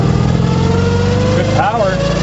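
A 1974 MG Midget's engine runs steadily at close range, its tone rising and falling slightly as the throttle moves, with someone talking over it.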